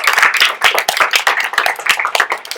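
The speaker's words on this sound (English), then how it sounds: "Can we give Miss Patrigas a round of applause?" An audience claps after a student TED talk in a school setting, dense close hand claps in a lively, uneven burst lasting a few seconds, with no talking over it.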